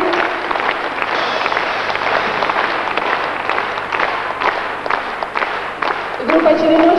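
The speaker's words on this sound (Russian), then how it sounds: "Аплодисменты." Audience applause at a concert in Alma-Ata, a steady dense wash of clapping filling the hall throughout, with a brief tonal sound near the end.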